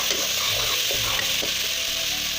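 Ginger and garlic paste sizzles steadily in a pan, a continuous close frying hiss with faint stirring scrapes throughout, no voices.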